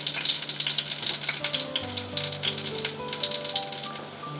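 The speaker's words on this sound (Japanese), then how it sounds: "イタリアンパセリをガーリックオイルで一緒に炒める。" Italian parsley stir-fries in garlic oil in a pan, a bright continuous sizzle with light crackle throughout, close and steady, while faint tonal music plays underneath.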